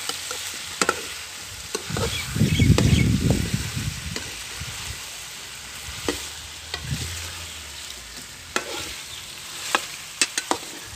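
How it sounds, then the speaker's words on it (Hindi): Chicken kadai with ginger gets stirred in a hot pan, giving a soft sizzle with scraping spoon strokes, a louder frying surge early on, and sharp clicks of utensil on metal scattered throughout. "अब हम इनको अच्छी तरह मिक्स करेंगे।"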